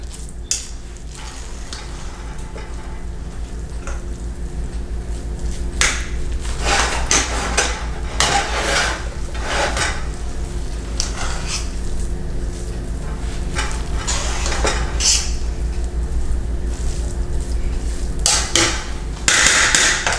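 Oil being stirred in a pot while cooking Jamaican ackee and saltfish seasoned rice: scraping and clinking of a utensil against the pot in irregular bursts over a steady low hum, with no talking.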